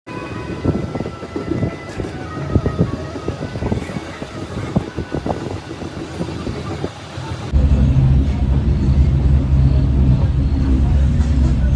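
A passenger train pulls out from Dadar station with a steady rumble and rattle from the carriages. Heavy wind buffets the microphone, and the roar turns deeper and louder partway through.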